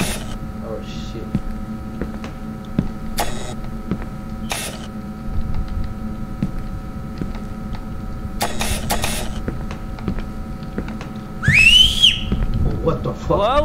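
Someone whistles while playing the horror game Backroom 1998, a quick rising whistle near the end over a steady electrical hum, with scattered clicks and short noisy bursts before it.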